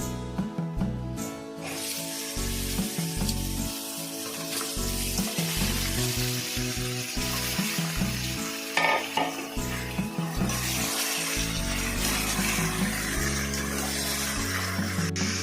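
Chicken frying in a cooked-down onion, ginger and garlic masala for chicken dak bungalow, a loud continuous sizzle close by, with spoon scrapes and clatter against the pan throughout and no voices.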